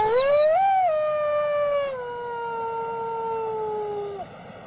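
A wolf answers with a long, clear howl that rises, wavers, then holds a steady falling tone for several seconds before cutting off, close and loud with no other voices.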